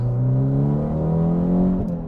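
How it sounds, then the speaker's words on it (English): A straight-piped 2008 Mitsubishi Lancer Evolution X with a loud open exhaust and a 5-speed manual revs hard, a close, steady droning roar that climbs slightly in pitch before easing off, with no talking. "I have a straight piped, loosed exhaust Evo"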